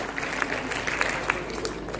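Crowd of listeners at a Mumbai festival gathering clapping in a moderate, even patter, a few sharper claps standing out, with faint speech blending in beneath.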